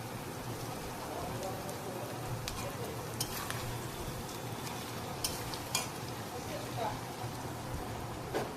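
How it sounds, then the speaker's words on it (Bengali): Thick chilli-powder spice paste for fish curry sizzles steadily in a pan while being stirred, a continuous crackling hiss with scattered scraping taps throughout. "এই দিয়ে মশলাটা ভালো করে কষিয়ে নেব।"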